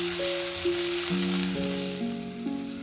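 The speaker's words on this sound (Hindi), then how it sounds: "अब आपने जो ग्रीन प्याज का वाइट पार्ट होता है वो डालना है और उसको भी अच्छी तरह से इसमें मिक्स करना है" Green onion whites stirred into a sizzling pan of dry chilli chicken over high flame, giving a steady close hiss with soft scraping stirs and no talk, while a faint tonal line sits underneath.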